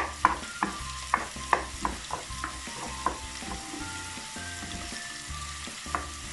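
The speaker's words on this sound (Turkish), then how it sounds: "Bu tarafta da kıymamızla soğanımızı birlikte kavurmaya devam edelim." Minced meat and onion frying in butter in a pan, a constant sizzle broken by repeated sharp clacks and scrapes of a spoon stirring, close and clear with no voices.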